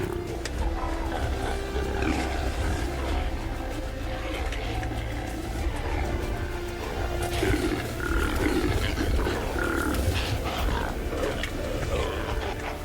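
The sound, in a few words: rams roaring during the rut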